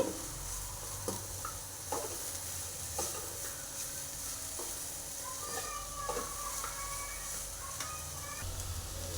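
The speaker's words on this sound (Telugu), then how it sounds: "ఇది ఎప్పుడు కూడా మనం కలుపుతూనే ఉండాలండి" Jaggery melts in a pan over a low flame for fresh coconut laddus, sizzling softly and continuously while a spoon scrapes and stirs through it with light, irregular clicks.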